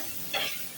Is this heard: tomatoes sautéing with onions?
yes